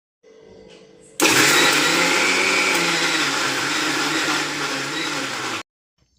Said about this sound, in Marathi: आता मिक्सरमध्ये टाकूया डाळ मिक्सरला काढताना कमीत कमी पाण्याचा वापर करायचा